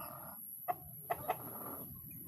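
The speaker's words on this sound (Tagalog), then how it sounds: "Sasamahan natin yan ng native na manok" A native chicken gives three short, separate clucks at moderate volume over a quiet, steady background hum.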